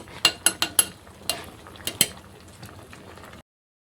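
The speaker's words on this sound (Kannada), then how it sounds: "ಈಗ ಚೆನ್ನಾಗಿ ಕುದೀತಾ ಇದೆ" Drumstick leaf soup boils in a pot, with a series of sharp metallic clinks from a spoon against the vessel over a soft bubbling bed. The clinks come close together at first, then grow sparser before the sound cuts off.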